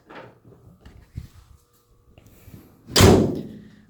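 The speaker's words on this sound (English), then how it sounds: "Just closing the door." A Toyota Camry car door swings shut with one loud, solid slam near the end, preceded by faint handling clicks and small knocks.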